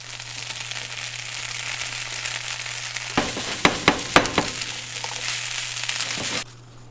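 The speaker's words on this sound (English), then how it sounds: "Let's just stir fry this." A tomato mix stir-fries in a pan with a constant sizzle and a low hum underneath, then a burst of spatula scrapes and clacks near the middle before the sizzle cuts off.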